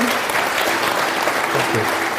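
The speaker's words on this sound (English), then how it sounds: "if we could all just give him another round of applause" Audience applause at a book festival author talk, steady dense clapping from a sizeable crowd filling the whole stretch without a break.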